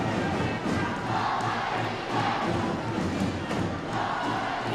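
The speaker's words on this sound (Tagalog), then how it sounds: "we are hearing right now the crowd from Kamaligan who is cheering" A basketball crowd from Camaligan cheers and chants in the finals against Naga, a dense, steady roar of many voices filling the gym with rhythmic surges.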